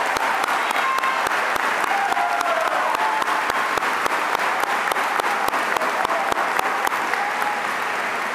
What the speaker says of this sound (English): This audience needs to give themselves a round of applause.